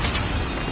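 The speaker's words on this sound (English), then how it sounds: "Predator missile inbound." A Predator missile detonates in Call of Duty, a short, loud, dense blast of broadband noise with heavy low rumble that fills the whole moment without any clear onset or decay.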